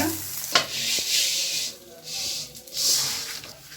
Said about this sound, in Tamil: இப்போ இதுலேயே உப்பு போட்டு வறுத்துக்கலாங்க